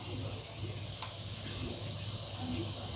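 Oil sizzles and fries steadily in a pan while liver curry cooks, giving a constant bright hiss with faint stirring. A voice speaks softly underneath.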